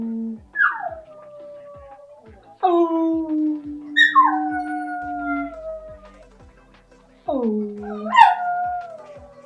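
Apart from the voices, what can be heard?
dog howling, singing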